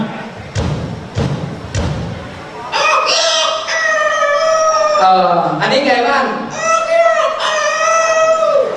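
Three heavy thumps open, followed by a voice imitating a wild junglefowl crowing, with long, wavering, strained crow-like calls repeated loudly and close; a few spoken words come first.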